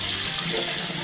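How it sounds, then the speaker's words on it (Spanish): Warm water runs from a tap into a sink, a steady close splashing hiss with no break. "Y sacar el agua templada."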